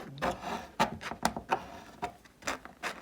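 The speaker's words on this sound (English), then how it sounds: "actually it's a hotel room key card, scrape, get my rocks, leave a gap between each scraper" A hotel room key card scrapes across wet watercolour paint to form rocks, giving a series of short, dry rasping strokes with small gaps between them, close and fairly quiet.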